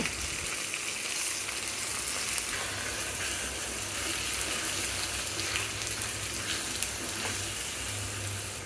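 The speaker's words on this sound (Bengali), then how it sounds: "খুদের চালগুলো এখন দিয়ে দিব" Broken rice hitting a hot pan gives a continuous, fairly soft sizzle, like light rain, that holds steady from start to finish.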